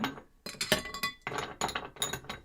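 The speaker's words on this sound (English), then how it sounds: "once that's a bit dissolved, we'll get our ice cubes in" Ice cubes dropped into a cocktail glass, giving a series of bright, close clinks and rattles in several quick clusters, with no talking over them.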